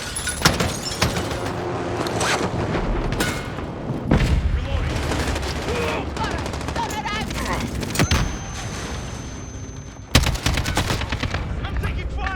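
Heavy gunfire in the video game Call of Duty Modern Warfare (2019): rapid automatic bursts and sharp shots rattle continuously and loudly, with a few bigger booms, mixed with shouted voices and battle chatter throughout.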